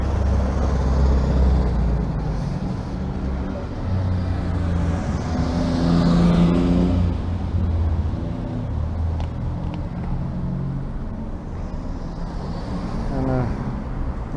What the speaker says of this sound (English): A cool Porsche there.